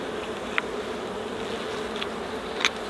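Honeybees buzz in a steady drone around an opened hive infested with small hive beetles, close by, with a few brief louder passes of single bees.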